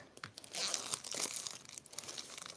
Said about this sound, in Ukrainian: Аж навіть шкода рвати таке.